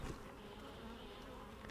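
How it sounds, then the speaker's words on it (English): Nurse bees on a brood frame in a beehive make a steady, close, continuous buzzing drone, quiet but unbroken, with no voices. "So all these bees on here are nurse bees."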